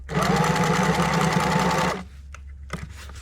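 Sewing machine stitching through knit fabric with a close, steady, humming run for two seconds, then stopping, followed by a few light handling clicks.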